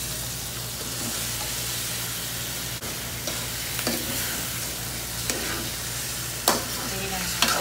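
Marinated chicken fries in a hot pan with a dense, continuous sizzle, broken by occasional sharp clinks and scrapes of stirring, close and alone without speech.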